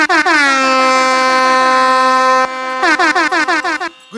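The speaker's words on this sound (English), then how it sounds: "honk your horn if you want all of them gone" Vehicle air horns blare loudly for a couple of seconds, then break into a rapid series of short honks, close and forceful.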